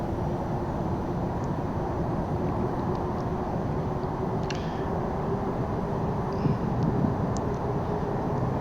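Steady, loud aircraft engine drone from the VTOL VR flight simulator as the throttle is pushed up, a broad continuous roar with a constant hum and only faint clicks over it, and no speech.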